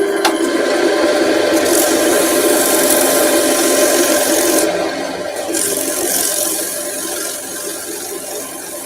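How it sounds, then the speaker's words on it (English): Worn sandpaper is rubbed steadily across a wooden piece in a continuous, close, scratchy rasp that eases slightly partway through. "I've used this a little bit, this sandpaper, so it's not as sharp as what it should be"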